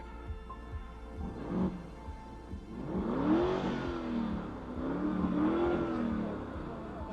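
A car with a push-button start comes to life, its engine rising in two revving surges over a low, steady idle, heard close up.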